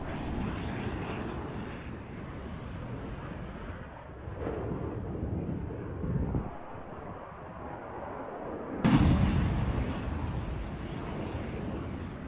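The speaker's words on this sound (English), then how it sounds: "This is Odessa fighting the Russian rocket barrage." Over Odessa, a Russian rocket barrage and air defense fire make a continuous distant roar and rumble, broken by a heavy boom near the end and a sharp blast that fades into a lingering wash.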